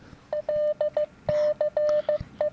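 Morse code CW tones from a practice app: a single steady pitch keyed into short and long beeps with small gaps, clear and close, alone without speech.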